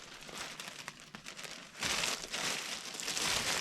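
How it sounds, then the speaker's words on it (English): A plastic bag crinkles and rustles as an item is packed into it for shipping, in a run of close, dry crackles that grow denser and louder partway through, with no talking. "I saved this plastic bag from something, so I'm just going to put it in this."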